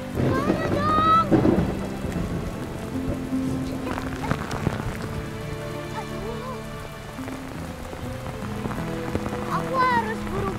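Steady rain falls outdoors as a constant hiss, heard under music and occasional voices.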